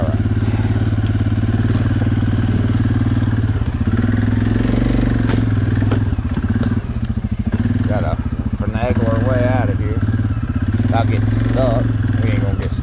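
A 2022 Suzuki KingQuad 750 ATV engine drones steadily and loudly up close as it is ridden, with a constant low rumble throughout and a voice talking over it.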